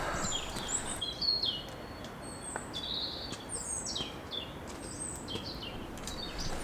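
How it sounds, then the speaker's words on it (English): Several birds chirp and sing in short, high calls scattered throughout, over a steady low outdoor rumble, on a walk in Heidelberg, Germany. "All you hear are the birds"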